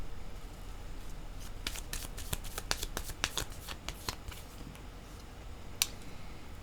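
Tarot cards shuffled and handled during a card reading, a quiet run of soft crisp riffling snaps and flicks clustered in the middle, then a last sharp flick near the end.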